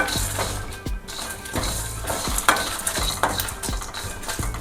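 Spices and cardamom roasting in a pan are stirred in regular scraping strokes about every half second over a constant low sizzle, close and fairly loud.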